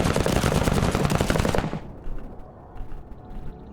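Rapid EMP rifle fire in the video game Menace, a dense, loud stream of crackling shots for about a second and a half that cuts off sharply and leaves faint scattered rattles behind.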